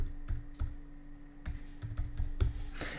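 Fingers typing a search term on a computer keyboard in the Godot game engine editor, a quick irregular run of close, crisp key clicks with short pauses between bursts.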